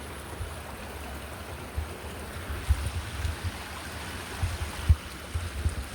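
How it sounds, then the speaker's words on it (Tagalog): A small stream trickling down from higher ground outdoors gives a steady, soft wash of flowing water, with faint low thumps and splashes scattered through it and no talking. "Subaybayan ko ngayon sapa na yan. Galing yan talaga doon sa taas. Ito yung sapa nila, oh."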